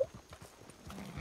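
Horse hooves clip-clopping in the Red Dead Redemption video game, a quick run of steady hoofbeats over faint game ambience, with a brief whinny-like tone at the very start.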